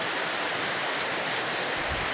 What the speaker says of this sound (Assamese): এই ৰাতিপুৱাই ইমান বৰষুণ পৰিছে